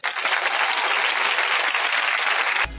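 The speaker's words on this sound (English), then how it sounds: "Give them a small round of applause real quick." A small audience breaks into a short round of applause, dense steady clapping held at an even level for a few seconds before cutting off abruptly.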